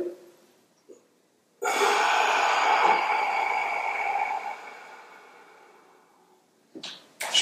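A long, deep inhalation during a Wudang qigong breathing exercise: one loud, airy breath drawn in close to the microphone over several seconds and slowly fading, with short breath sounds before and after it.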